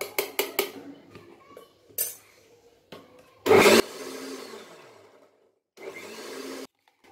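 A kitchen blender coarsely grinding tomatoes into a homemade puree for an Indian dish, heard in two short whirring bursts after a series of clinks and taps from utensils and the jar.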